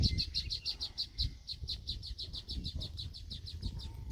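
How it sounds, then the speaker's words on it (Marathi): Bird calling outdoors near a nest being built, a rapid series of bright, evenly spaced chirps repeating throughout over low rumbling background noise. "मागे तो पक्षी आहे"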